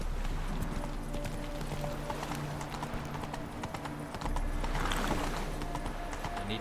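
Hooves of the horse Roach in The Witcher video game clip-clop in a steady rhythm, close and continuous with game ambience underneath.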